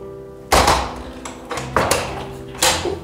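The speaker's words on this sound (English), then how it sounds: "close the doors, we'll do that" Doors in an old house being closed, three heavy thuds spaced about a second apart, each with a short wooden rattle and decay.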